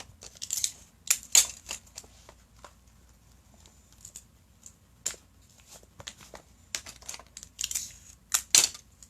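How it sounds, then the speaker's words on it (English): Tape is stuck down on both sides of an embroidered football card holder, giving quiet, close, irregular bursts of sticky peeling and crinkly tearing between short pauses, with no talking. "And then I'm going to tape it on both sides."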